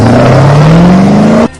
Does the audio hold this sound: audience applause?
no